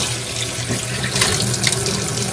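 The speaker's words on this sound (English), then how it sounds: "Alright, so go ahead and rinse it off." Sink faucet running water while a bowl is rinsed, a loud, close, steady splashing rush with small shifts as the water hits the dish.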